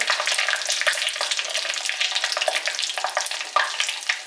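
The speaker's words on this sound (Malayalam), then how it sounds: "വറ്റൽമുളക് ഇട്ട് ഇതൊന്ന് വഴറ്റിയെടുക്കുന്ന താമസം മാത്രമേ ഉള്ളൂ" Dried red chillies sauté in hot oil for garlic pickle, a loud, close, crackling sizzle that keeps going with bursts of spattering.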